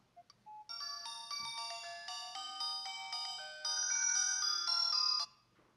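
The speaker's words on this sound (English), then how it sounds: "the watch will start ringing and vibrating" Aplus GV18 smartwatch ringing as its Bluetooth link drops: a bright, clear electronic ringtone melody of quick stepped notes that plays for about five seconds, getting louder near the end before it stops abruptly.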